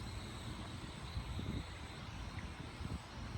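Mould King 33041 Super-S quadcopter flying outdoors in wind, a steady broadband whir of its motors with gusty low rumble underneath, continuous and fairly faint at a distance.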